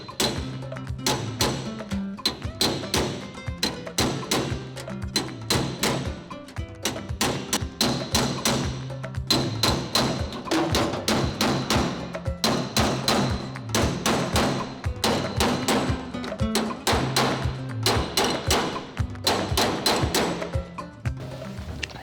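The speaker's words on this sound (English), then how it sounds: "So you get that sort of nice solid thud noise when we come down on the other piece of metal." A hammer strikes the metal roof panel of a 1970 Holden HG ute under rust repair, giving dozens of solid, close thuds in a steady, quick rhythm with short pauses, and no voices.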